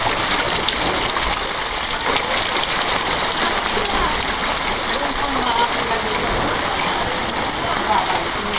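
Heavy rain pours down during a flood in West Calaguiman, Samal, Bataan, a dense, loud, unbroken hiss of drops on surfaces filling the whole stretch, with no clear voices.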